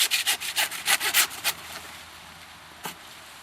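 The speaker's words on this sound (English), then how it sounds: "We're going to saw through that spinal column" A hand saw cuts through a deer's spinal column during caping for a shoulder mount, about ten quick rasping strokes close by, then a pause and one last stroke.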